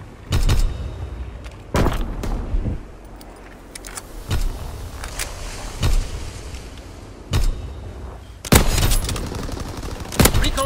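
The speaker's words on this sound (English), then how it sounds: "AA gun!" Anti-aircraft gun in the Call of Duty WW2 video game fires in repeated heavy bursts, loud and close, with short pauses between volleys over a steady mechanical background.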